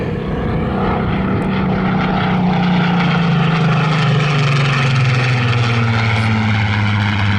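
A Supermarine Spitfire PR XIX flies past at an airshow, its piston engine and propeller giving a loud, sustained drone whose pitch slowly sinks as the aircraft passes and moves away.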